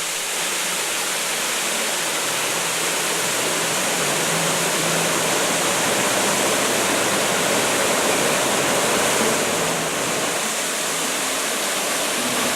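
Silver Creek Falls, a lit waterfall at dusk at Disney's Wilderness Lodge, pours into a pool with a dense, steady rushing roar of running water, loud and unbroken throughout.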